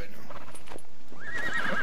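A horse in the medieval game Life is Feudal gives a rising, ringing neigh near the end, preceded by a few soft hoof thuds, short and moderately loud, with no talk over it.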